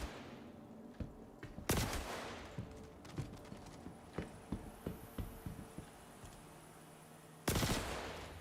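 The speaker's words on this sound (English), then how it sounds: "And a custodian SMG. And we're gonna take out these last guys." Custodian SMG fire in the Star Citizen video game: a quiet run of sharp, evenly spaced shots with two louder bursts at the start and end.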